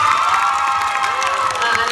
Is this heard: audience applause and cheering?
yes